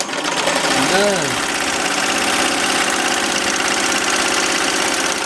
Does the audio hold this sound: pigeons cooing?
no